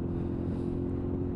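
A loud engine running with basically no exhaust, a continuous rough low grunt droning steadily and close throughout, alone without voices.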